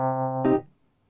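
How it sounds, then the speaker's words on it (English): Looped organ sample in a produced song, a sustained chord that is cut by a brief brighter accent and then fades quickly into silence. "In this case, there's this organ which sounds like this."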